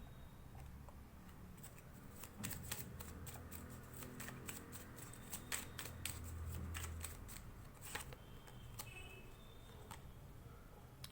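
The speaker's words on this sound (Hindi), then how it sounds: "चलिए और भी कार्ड्स देखते हैं।" Tarot cards are shuffled in a steady run of crisp riffling flicks and snaps, close and clear over faint background hum, with no talking.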